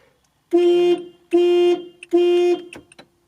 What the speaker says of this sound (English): Let's push and hold the panic button to see what the horn sounds like